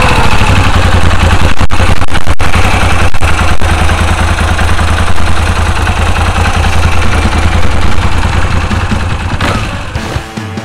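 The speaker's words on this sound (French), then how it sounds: "On va la démarrer afin que vous puissiez écouter le bruit." Moto Guzzi V7 Stone with stock exhaust, engine running at a loud, close, steady idle with a low throbbing rumble and a few sharp clatters near the start, dropping away toward the end.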